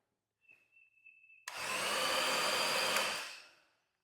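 An ANBULL electric chain hoist lowers a load, its motor starting with a sudden broadband whir after a faint whine, running steady and fairly quiet for about two seconds before winding down.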